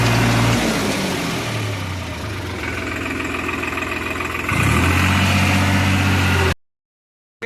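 A tractor engine idles and runs with a steady low rumble that swells slightly louder near the end, then cuts off into silence.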